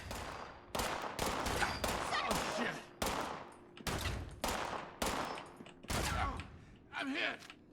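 Bursts of automatic gunfire from Fallout 76 rattle loudly in repeated rapid volleys, close and separated by short pauses, with a voice talking between them.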